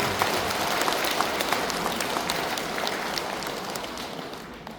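A congregation at a Buddhist dharma service claps together, a broad even wash of applause sustained for several seconds and gently fading at the close, with no talking over it.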